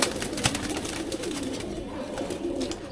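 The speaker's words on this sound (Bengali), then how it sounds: "এখন একটা কবুতর দেখব" A pigeon from a breeder's collection coos in a few soft, low repeated calls over a busy background, with occasional sharp clicks and scuffs nearby.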